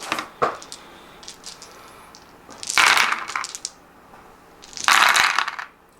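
A large handful of dice, twenty-five of them, tumbles and clatters across a tabletop during an 1862-era Sharp Practice wargame: a single sharp clack first, then two long, loud bursts of rattling, close to the mic, with no talking.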